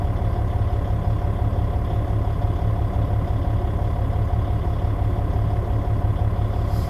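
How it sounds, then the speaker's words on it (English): A truck engine idles with a deep, steady low rumble, constant and close, with no other sounds breaking through. "of course you can hear my truck because it's still 82 degrees outside"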